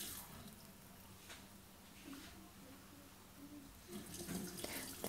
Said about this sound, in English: The lever swings out to control the flow and goes back 45 degrees for cold